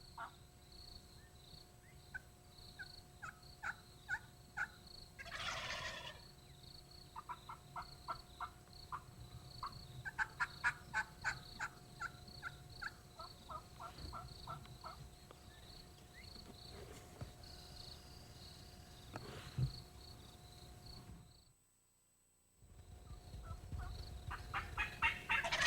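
Wild turkeys gobble outdoors during a spring hunt in a series of rapid, rattling bursts, some close and others farther off, with insect and frog chatter beneath and a brief silent gap near the end.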